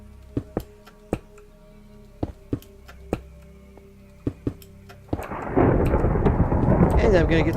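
Sharp, close thunder cracks strike in an irregular series over a quiet background in a Lord of the Rings game, then a dense, steady roar of heavy rain and storm takes over for the final seconds.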